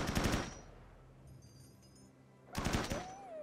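Automatic gunfire in the video game Rimworld, two short rapid bursts at the start and near the end with quiet game ambience and a faint tonal sound in between.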